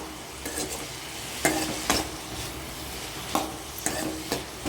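Beetroot sautéing with onion and chillies for chutney, a steady low sizzle in the pan broken by several sharp scraping strokes of a spoon at uneven intervals.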